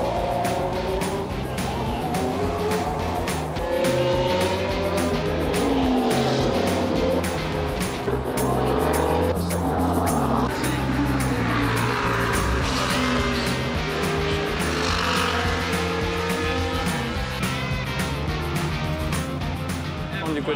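Formula 1 cars leave the pit lane at the Las Vegas Grand Prix, their engines a loud, continuous high-pitched roar that swoops up and down in pitch as they pass, with voices faintly underneath.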